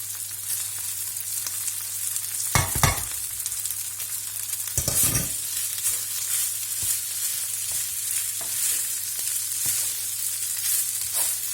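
Rice with turmeric sizzling in a pan, a steady low frying hiss broken by a few sharper scrapes and stirring knocks from a utensil, close up with no talking.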